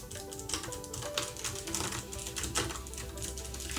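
Keys clatter quickly and quietly in an uneven typing rhythm, a close, soft clicking with faint background hum.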